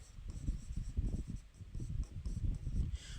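Pen or chalk writing strokes on a board during a classroom lesson, a steady run of short scratchy strokes close by with no voice over them.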